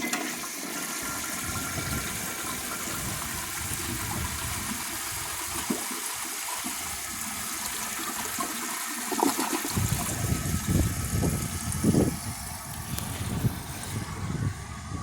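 A 1951 Kohler Wellworth toilet flushing a washcloth: a steady rushing gush of water that swells into louder gurgling surges toward the end, close and alone.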